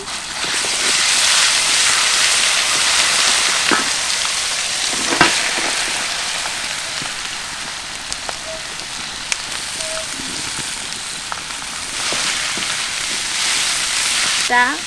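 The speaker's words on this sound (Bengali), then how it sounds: "আমাকে ভাজতে হবে, বেশি জোরে জাল দেওয়া যাবে না, হালকা করে জাল দিব" Ground spice paste of dried chilli, garam masala and cumin frying in a pan over low heat, a dense steady crackling hiss held close and loud, with occasional small clicks and a soft faint voice.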